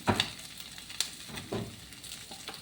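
Corned beef frying in a pan gives a steady, soft sizzle with occasional crackles and light stirring scrapes, fairly quiet and without talk.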